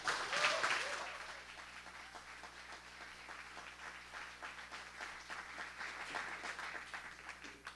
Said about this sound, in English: So please, a big round of applause for David and Mez.